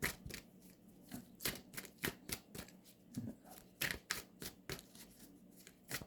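Tarot cards shuffled by hand, a quick run of crisp riffling and flicking bursts in an uneven rhythm, faint and close with no talk over them.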